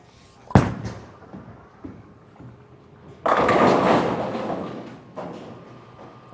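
Bowling ball on a short-oil lane: a hard thud as the ball lands, a quiet roll, then a loud crash of pins scattering that rattles and fades, with a later clatter.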